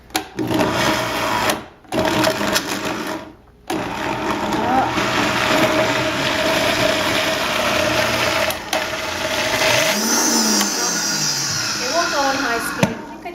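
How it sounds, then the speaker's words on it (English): A loud, steady blender whir runs almost continuously while blending chocolate pudding, briefly cutting out twice near the start, with the pitch shifting as it blends. "You just throw it in the blender and you blend."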